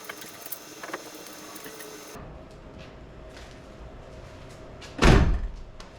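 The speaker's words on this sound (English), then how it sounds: "go ahead and put your door back on" A door going back onto a 1997-2006 Jeep TJ after a rock slider install, with faint metallic handling early on, then a single loud slam near the end against quiet garage background.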